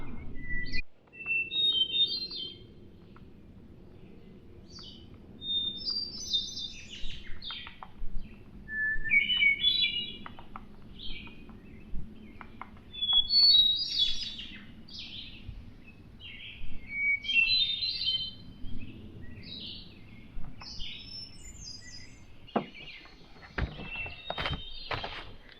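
Several birds sing and chirp outdoors on a morning campsite in Vermont, bright repeated phrases rising over a steady low rumble, with footsteps and a few louder knocks near the end.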